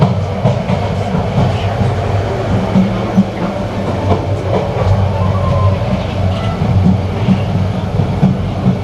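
The Suborno Express running from Chittagong to Dhaka, heard from on board: a loud, continuous rumble of wheels and carriages with a steady clickety-clack running throughout.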